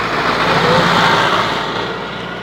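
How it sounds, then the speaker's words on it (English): A heavy-duty tractor drives past on a rural road in Luxembourg in springtime, a steady loud engine rumble that fades gradually as it moves away. "There's some heavy-duty tractor action going on."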